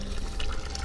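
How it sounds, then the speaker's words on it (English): Water from a small public drinking fountain streams steadily into a filter bottle, a soft continuous splashing wash with no pauses. "There is all places have these little fountains for water, and I have a bottle with a filter"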